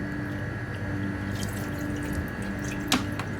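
Water pours steadily from a kitchen tap for sugar syrup in a rasmalai recipe, a soft continuous splashing stream with a brief clink near the end.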